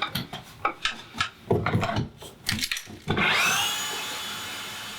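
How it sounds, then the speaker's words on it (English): Irregular knocking and scraping on wood for a few seconds, then a power drill whines up and runs steadily through a kitchen's back wall, slowly winding down, close by. "I'm drilling a hole in the back wall to route a cable"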